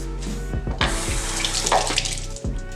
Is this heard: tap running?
yes